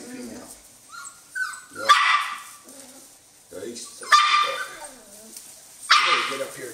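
Norwegian Elkhound puppies bark and yip close by in three sharp bursts spaced a couple of seconds apart, with softer whimpering whines between them.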